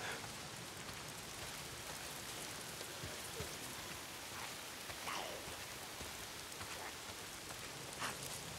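Constant heavy rainfall patters and hisses for the whole stretch in the video game Days Gone, with no voices.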